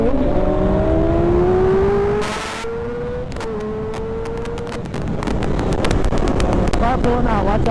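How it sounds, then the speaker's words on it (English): A car pulling out into traffic, heard from inside a moving vehicle as a loud engine drone with rising pitch under heavy wind buffeting, ending in rapid clicking; voices talk briefly over it. "Car pulling out, watch out."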